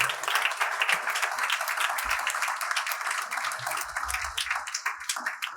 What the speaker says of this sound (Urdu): تو شکر گزاری کے لیے اس کے لیے تالیاں بجائیے۔